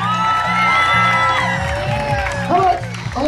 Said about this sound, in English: Tom Brady, ladies and gentlemen, a round of applause,